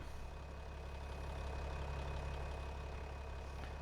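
A truck engine idling in Farming Simulator 25, a steady low rumble holding constant throughout, moderately loud with no talking over it.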